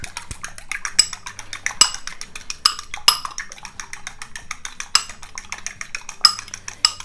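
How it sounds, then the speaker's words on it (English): An egg is beaten in a bowl with a utensil, making quick rhythmic clinks and scrapes against the bowl, close and clear, with no talking. "crack our egg right in this bowl. Give it a good mix, or should I say beat it"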